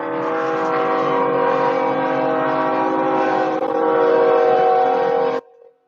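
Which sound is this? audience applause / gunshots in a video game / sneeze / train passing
train passing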